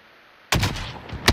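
In a video game, a burst of gunfire erupts suddenly after a quiet moment, a loud sustained volley with another sharp shot cracking near the end.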